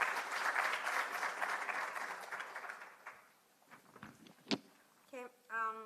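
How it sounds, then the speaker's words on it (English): Audience applause at an emerging researchers symposium, a steady round of clapping that swells then fades over about three seconds, followed by a few scattered claps and brief murmurs in a quieter room. "Just give him a round of applause."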